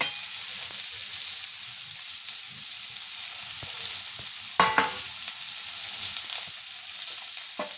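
Okra masala fries in a pan with a steady low sizzle, while a spatula stirs and scrapes through it and gives one louder clatter of stirring partway through.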